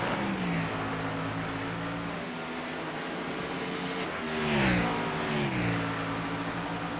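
Cup Series race cars duel for ninth place at Watkins Glen in a racing video game, engines droning at high revs with shifting pitch as one car surges past, continuous and fairly loud with no talk.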